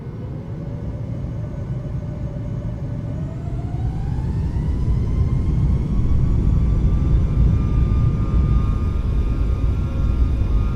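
Boeing 737 MAX jet engines spooling up in Microsoft Flight Simulator 2024, a loud steady roar with a whine rising in pitch and growing louder over about ten seconds, heard alone.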